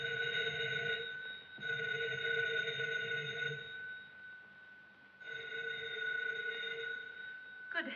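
An old telephone bell rings in two long bursts separated by a pause, fairly clear and alone with no talk over it.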